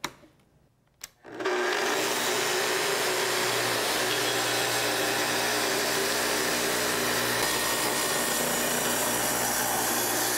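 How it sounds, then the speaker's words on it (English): A Festool TS track saw spins up and plunges into a workpiece along its guide rail, giving a loud, steady whining cut that runs close and unbroken after a brief quiet start. "To make your cut, first start the saw, then plunge down to your depth setting, and advance into the workpiece slowly."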